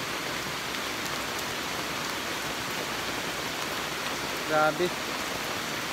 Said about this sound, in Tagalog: Dito tayo palipas ng ulan kung sakaling hihinto ito